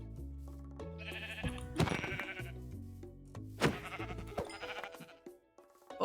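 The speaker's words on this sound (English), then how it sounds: "There's more sheep over here." Sheep in the Minecraft video game bleat repeatedly, a run of loud, close, wavering game-style baas with no talk over them.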